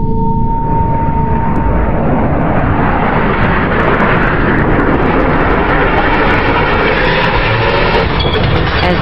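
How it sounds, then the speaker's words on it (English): A single-seat F/A-18 Hornet jet traps on an aircraft carrier deck as the arresting cable stretches toward breaking, producing a loud, sustained engine roar that dominates with no talk. "As this single-seat FA-18 Hornet traps, the arresting cable stretches to the breaking point"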